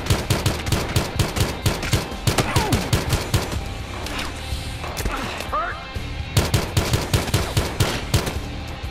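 Rapid automatic gunfire from the Battlefield Hardline campaign, loud close bursts with a pause in the middle before firing resumes, game effects and a voice faintly underneath.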